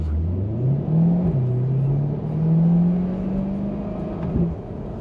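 A Chevrolet Corvette C8 2LT accelerates to 30 mph, its engine note rising and settling through gear changes in a steady, fairly loud hum heard from inside the car, with no talking.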